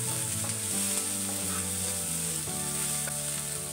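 Sabudana khichdi sautés in a pan with little oil over a low flame, a close steady sizzle with scraping stirring strokes through the short stretch, no talk.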